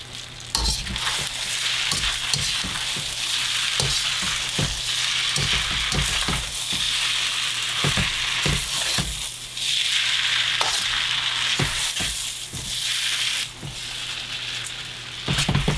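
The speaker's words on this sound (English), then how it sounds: "let's let this cook for another couple minutes just to cook some of the moisture out" Fried rice made with leftover stir-fry sizzles steadily in a hot pan, with repeated sharp scrapes and clatters of stirring cutting through the constant frying hiss, close and busy throughout with no talking.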